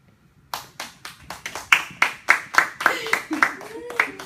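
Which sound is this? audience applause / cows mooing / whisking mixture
audience applause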